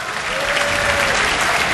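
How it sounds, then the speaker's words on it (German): A crowd applauds in a dense, steady wash of clapping that carries through the whole short moment. "das ist ein Applaus wert."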